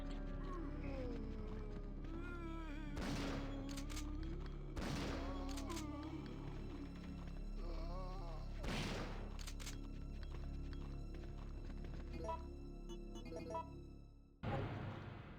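Gunfire in Resident Evil 3: Nemesis: several sharp, loud shots spaced a few seconds apart over a steady low background drone, with a final abrupt blast near the end.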